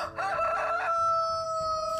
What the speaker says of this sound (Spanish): Inmediatamente cantó un gallo.